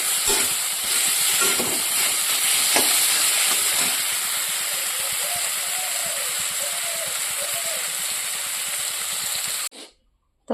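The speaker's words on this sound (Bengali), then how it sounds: "এদিকে কিন্তু সবজিটা কষিয়ে নিচ্ছি।" Vegetables stir-fry in a pan, a continuous loud sizzle with scattered scraping clicks from stirring, then a sudden cutoff near the end.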